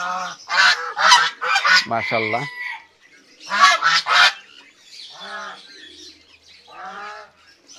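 Twenty-to-twenty-five-day-old ducklings bathe in water and call in loud, rapid bursts of honking quacks, pausing and then resuming more softly, while a voice speaks briefly among them.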